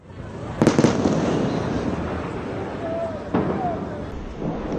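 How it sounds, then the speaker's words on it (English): A sharp burst of booms and crackles rings out early, then dull rumbling and a second muffled blast echo through a noisy, distant night scene in Tehran during Israeli airstrikes. "explosions were heard in Tehran."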